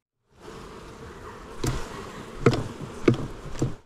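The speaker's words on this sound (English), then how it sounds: "I shake the extra bees off the frame, and yes, that makes them a little loud too." Honey bees just shaken off a brood frame while requeening a queenless hive, buzzing loudly and close, a dense agitated drone swelling with sharp individual bee passes near the end.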